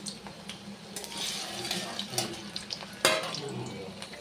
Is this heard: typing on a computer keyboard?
no